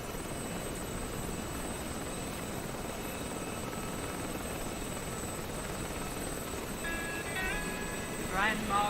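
An Mi-24 helicopter in a video game, a constant dense rotor and engine drone filling the scene at steady loudness, with a brief higher tonal sweep near the end.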